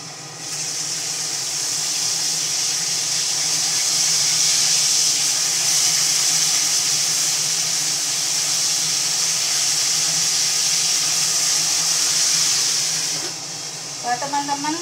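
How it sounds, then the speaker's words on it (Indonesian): Fish frying in a pan of hot oil gives a steady, loud sizzling hiss with spattering that continues almost without a break, then drops off near the end as a few clatters sound. "kalau goreng ikan itu usahakan ditutup teman ya. Selain minyaknya itu bertaburan, letek-letek teman ya"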